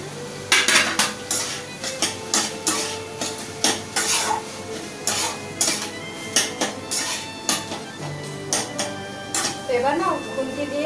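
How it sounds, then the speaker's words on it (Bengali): A spatula stirring and pressing chopped onion in a pan while the moisture cooks off, making repeated sharp metallic scrapes and knocks in an irregular rhythm, close and loud, with a person talking over them. "এবার না খুন্তি দিয়ে এভাবে প্রেস করে করে নাড়তে হবে যতক্ষণ না জলটা শুকিয়ে যাচ্ছে।"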